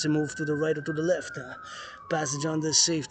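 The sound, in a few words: ambulance siren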